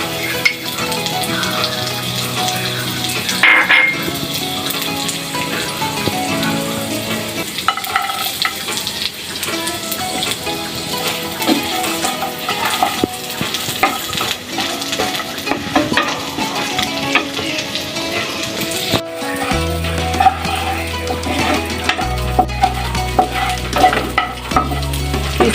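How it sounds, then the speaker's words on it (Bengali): Raisins, pistachios and almonds frying in ghee, a loud continuous sizzle with frequent metal-spoon stirring and scraping against the pan, plus occasional clinks, running steadily throughout. "কিশমিশটা ভেজে নেব।"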